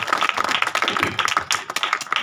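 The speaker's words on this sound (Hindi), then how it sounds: "ताली बजाए परमेश्वर की महिमा के लिए" A church congregation claps together in praise. The clapping is close and quick, with a steady, slightly uneven patter, and no one talks over it.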